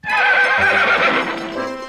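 A horse whinnies loudly in a long, wavering neigh, joined by a faint clip-clop of hooves, as a short sound effect with no talk.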